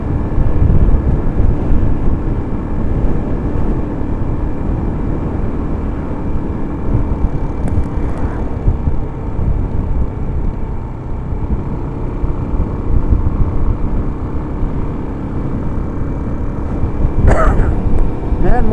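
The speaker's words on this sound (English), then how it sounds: "here comes that plane now. I think this is just a stunt plane" A stunt plane flies overhead near an air show, heard as a steady, loud engine drone for almost twenty seconds. Heavy wind and ride noise run underneath it, and it swells slightly near the end.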